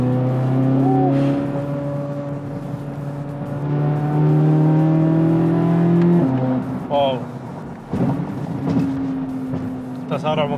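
Chevrolet Corvette Z06 (2023) on a track in track mode, its engine revving and accelerating hard with rising harmonic tones through several gear changes, loud and close.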